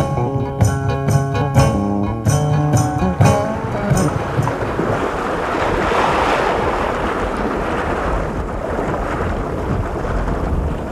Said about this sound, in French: Chaleur et vent de poussière, comme tous les jours.